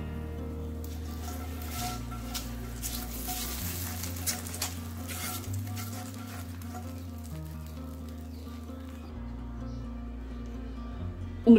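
Hot tempering is added to cooked rice and lentils for kara pongal, giving a soft, continuous sizzle with light stirring patter. It is fairly faint, over a steady background hum.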